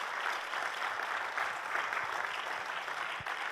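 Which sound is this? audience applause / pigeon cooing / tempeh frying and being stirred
audience applause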